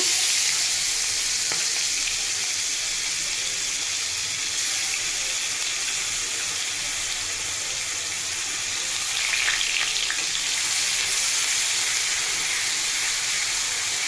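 Onion paste fries steadily in a pan for a rohu fish curry, producing a loud, continuous close sizzle with occasional faint stirring scrapes and no talk.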